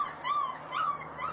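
A stray puppy stuck in mud inside a roadside culvert whimpers in repeated high, wavering cries, three drawn-out whines rising and falling, fairly close and alone.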